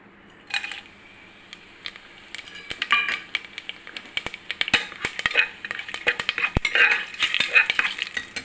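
Cinnamon, cumin, fennel and cloves frying in hot oil for a chickpea kurma: a soft sizzle under repeated metal clinks and scrapes of a spoon stirring in the pan, growing busier as the spices cook.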